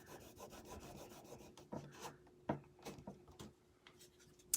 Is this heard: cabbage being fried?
no